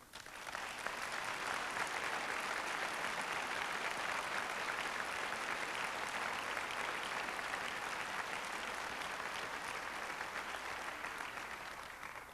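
Sustained applause from an Urban League presentation audience, dense and even from many clapping hands, continuing without a break for several seconds and tapering slightly at the end, heard alone with no talk.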